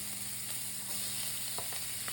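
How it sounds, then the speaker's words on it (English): Half an onion and a stalk of celery sautéing in melted butter in a single pan over medium-low heat, a steady, soft, continuous sizzle with a few faint utensil taps, no voices. "we're just gonna saute that up real good"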